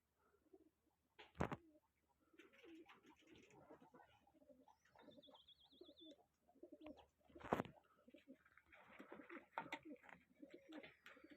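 Pigeons coo softly in low, rolling calls against a quiet yard, with a couple of sharp clicks and faint background chatter.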